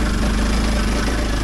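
Kawasaki KLX 230 motorcycle engine running steadily in second gear on a frosty forest trail, a loud, constant mid-pitched drone with no pauses.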